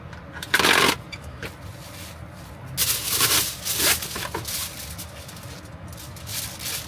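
Aluminium foil wrapped around frozen taiyaki crinkles and rustles close by in several bursts, one sharp crackle near the start and a longer stretch of crumpling later, with quiet pauses between and no talking.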